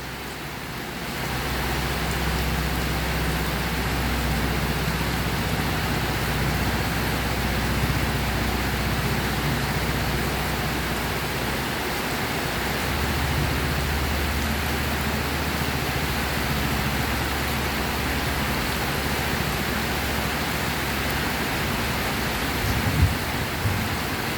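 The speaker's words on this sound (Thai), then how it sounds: "ฝนตกฟ้าร้องครับ" Steady rain pours down in a continuous hiss, with low thunder rumbling underneath for the whole stretch and no voices.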